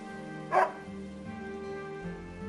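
A dog in the video game Another Code gives a single short bark over soft, steady game music.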